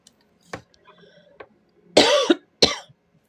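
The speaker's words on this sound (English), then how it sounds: "I don't mean to be coughing in your ear" A few soft throat sounds lead into two sharp, loud coughs close to the microphone, with quiet pauses between.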